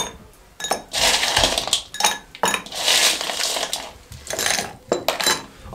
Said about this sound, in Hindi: फिर इसके अंदर डालेंगे हम आइस क्यूब,